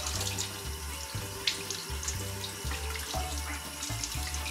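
Octopus rinsed under a running kitchen tap with water splashing steadily into a sink while hands rub it, with a low hum underneath and occasional sharper splashes, no talking.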